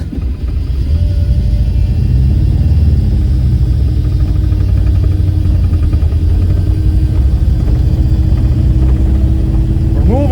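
A turbocharged Ford Pinto wagon drives on a gravel road, its engine a loud, steady rumble with constant low drone and rattles, close and continuous throughout.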